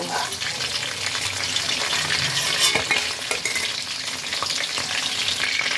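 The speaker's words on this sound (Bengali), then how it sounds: "মাছগুলো ভালোভাবে ভাজা হয়ে গেছে। এবার এগুলোকে আমি তেল থেকে তুলে নেব।" Tilapia fish frying in oil gives a dense, continuous sizzle with stirring and a few sharp clatters, loud and close throughout.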